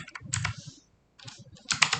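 Computer keyboard in use during a picoCTF challenge: a few close, crisp keystroke clicks, a short pause, then another burst of keys ending in a firmer press like an enter key, with no talk.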